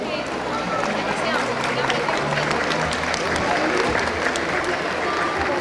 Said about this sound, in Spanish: os pedimos un fuerte aplauso.